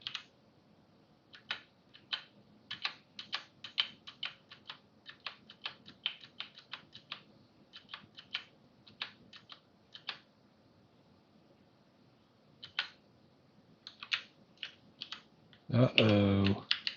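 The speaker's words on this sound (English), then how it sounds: "my clicky keyboard is super clicky" Clicky computer keyboard typing in rapid bursts of sharp keystrokes with short pauses, close and fairly quiet, ending in a brief louder sound near the end.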